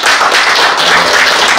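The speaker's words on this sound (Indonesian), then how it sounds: "Kita tepuk tangan." Audience applause at a church closing ceremony for Toraja church candidates, dense steady clapping, loud and close, filling the short moment with no voices.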